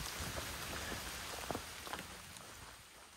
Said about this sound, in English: I'm enjoying walking in the rain